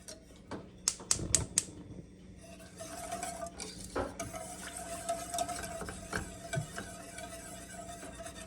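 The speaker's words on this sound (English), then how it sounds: "And then we are just gonna whisk this together." A few sharp clinks at first, then a whisk beats a cornstarch or arrowroot powder mixture in quick, steady strokes, close by and moderately quiet, with no voices.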